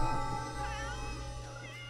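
Cats meow in The Sims 3, several wavering cries rising and falling over a steady humming game background, moderately close and without speech.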